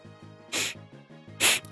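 Two short bursts of a character's sneeze in the video game Fire Emblem Shadow Dragon, each a bright hissing puff, over a soft musical background with no talk.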